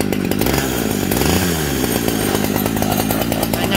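A used gasoline chainsaw runs loud and close, its engine droning steadily with a brief dip in pitch partway through.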